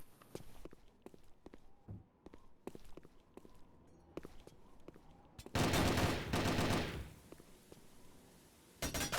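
Gunfire trades back and forth in a competitive video game match: footsteps tap steadily, then dense rapid bursts of automatic fire break out, pause, and resume at the end.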